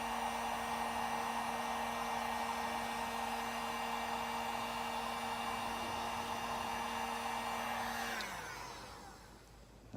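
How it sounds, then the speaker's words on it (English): A heat gun blows with a steady loud whine while shrinking heat-shrink tubing on the wire of an electric string trimmer, then winds down near the end as it is switched off. "then I'll heat shrink that end"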